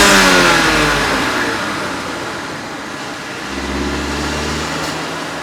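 A Mini Cooper engine revs hard while the car is thrashed along the road, loud at first and easing, then rising again near the end, with a steady mid-pitched drone and no talking.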